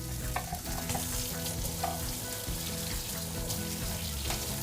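Vegetable oil sizzles and crackles steadily in a very hot skillet, a dense continuous frying hiss with small pops throughout, close and fairly loud, with no voices.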